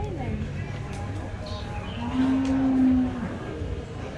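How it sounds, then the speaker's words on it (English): A cow moos once, loud and drawn out, in a livestock show at a county fair, with crowd murmur and people talking in the background around it. "The cows in Nicaragua, they look exactly like this cow."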